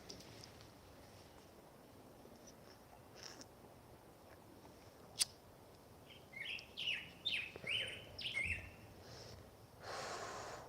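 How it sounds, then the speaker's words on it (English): A backyard bird tweets in a quick series of sharp, close chirps, faint at first and then repeating in short bursts against quiet outdoor background noise. "And a loud bird that's tweeting at me."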